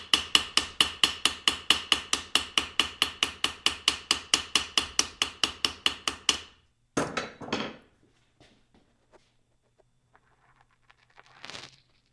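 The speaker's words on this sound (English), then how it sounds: "when you're hammering on that thing" A soft, annealed copper bracelet being textured with a hammer: a rapid, steady run of about thirty close metallic taps, then a pause, a few scraping handling sounds and a faint knock near the end.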